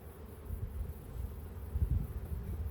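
Honey bees buzz in a steady, low, moderately close hum from an open Langstroth hive on a summer day, with a soft swell of louder buzzing near the end and no talking.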